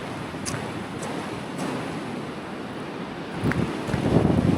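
Ocean waves rolling in close to a beach house on the Outer Banks, a steady wind-blown roar of surf that swells louder toward the end, with no voices.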